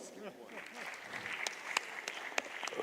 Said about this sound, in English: Round of applause for the timekeeper.